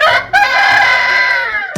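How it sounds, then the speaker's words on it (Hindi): A six-year-old rooster at a roadside eatery in the hills of Lelu crows loudly and close, one strained cock-a-doodle-doo with a short cluck before it and a sharp note at the end. "ये जो मुर्गा आपको दिख रहा है"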